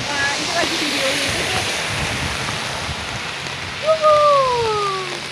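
Heavy rain pours during a flood in Fukui, Japan, a dense continuous hiss of falling water, while a voice speaks briefly near the end.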